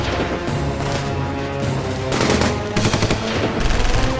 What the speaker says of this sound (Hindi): गोली चलाओ गोली चलाओ गोली चलाओ